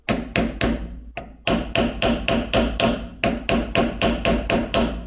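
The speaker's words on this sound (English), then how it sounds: "We're going to hammer in the edge around here." Hammer striking a screwdriver driven into the edge of a classic Austin Mini ball joint, about fifteen sharp metallic blows in quick succession with a brief pause, close and loud.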